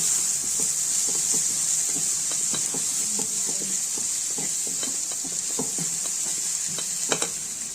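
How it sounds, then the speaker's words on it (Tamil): Asafoetida and other ingredients sauté in a pan for a Tamil greens and lentil kootu, a soft steady sizzle with scattered crackles and stirring ticks, close and even, no voices. "இப்போ எல்லாமே நல்லா வந்து வதக்கிக்கணும்"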